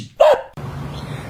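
A dog in a video game lets out one loud, close bark, and a quieter low background hum carries on after it.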